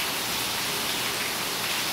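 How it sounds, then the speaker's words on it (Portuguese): Rain falls in a steady, dense hiss, loud and close, with no voices over it. "Tá chovendo, minha amiga, graças a Deus mesmo"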